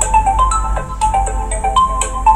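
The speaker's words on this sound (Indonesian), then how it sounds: "itu suara dari HP saya, suara alarm yang sudah kita set tadi." A loud electronic phone alarm ringtone plays a bright, repeating melodic chime pattern close up, with no voices.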